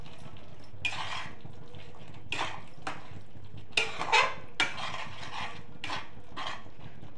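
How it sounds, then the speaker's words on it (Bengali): Ingredients being mixed in a pan for paneer pasanda, with scattered clattering scrapes and knocks of a spatula against metal coming in irregular bursts over a low, quiet background. "এবারে সবগুলো মিক্সিং করে দিচ্ছি।"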